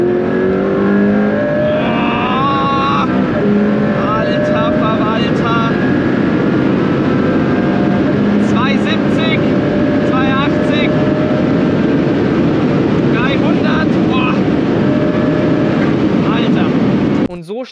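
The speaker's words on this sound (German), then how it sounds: "dann ist es jetzt Zeit, hier den Boost-Knopf zu drücken. Bedeutet, wir haben jetzt die volle Leistung." A McLaren Senna supercar engine at full boosted power in race mode roars loud and sustained, with repeated revving surges and gear-change blips throughout.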